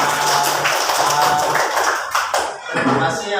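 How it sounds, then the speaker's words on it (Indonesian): Schoolchildren in a classroom clap together at the end of a lesson, a dense burst of hand claps that thins into scattered taps before fading. "kita berikan tepuk tangan untuk kita semua"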